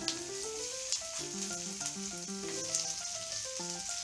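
Capsicum sautéing with onions in a pan for restaurant-style chilli chicken gives a steady, hissing sizzle throughout, moderately quiet, under gentle background music and with no talking.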